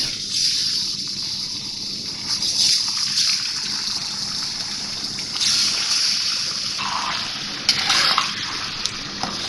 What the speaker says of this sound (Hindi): अब मैं इसमें चिकन फ्राई करूँगी।